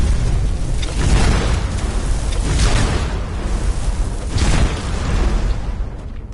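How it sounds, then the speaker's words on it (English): A big explosion in the video game Skyrim, a loud, sustained booming roar with rumbling bursts across the whole stretch and no talking over it. "Big explosion."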